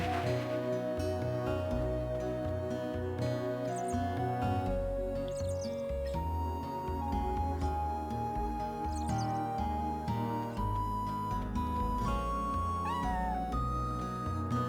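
Cat meowing in the video game Chrono Cross, in Arni Village: several short, high meows repeated over continuous in-game music, with no talk.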